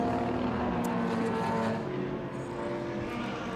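Historic Porsche 911 Carrera race cars, a 3-litre against a 2.7, roaring on track at a Winton historic racing meet, a loud sustained engine drone that eases slightly as they pass, with no talk.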